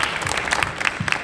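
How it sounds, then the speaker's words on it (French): Audience at a conference at the Paris boat show applauding a Segula Technologies project lead, a short burst of dense clapping in a hall with a few sharper claps standing out. "Je pense qu'on peut t'applaudir, Mathieu,"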